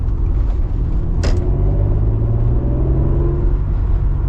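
An original Acura NSX sports car engine revs and rumbles steadily, its pitch rising slightly, with a brief sharp click partway through; loud and close, no talking.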